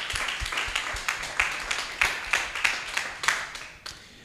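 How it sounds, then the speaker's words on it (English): Crowd applause at a student pitch-day bootcamp, a steady wash of many hands clapping with scattered louder claps, fairly close and filling the whole stretch, with a faint voice underneath. "that deserves an applause."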